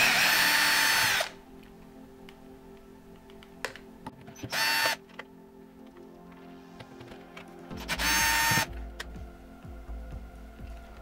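A power drill backs screws out of a WLTOYS 144001 RC car, three loud short whirring bursts separated by quieter clicks and handling noise, close up with no talk.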